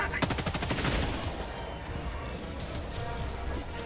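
Rapid automatic gunfire in a shooter video game bursts out loudly at the start and then thins into a steady rattle of distant shots and in-game noise.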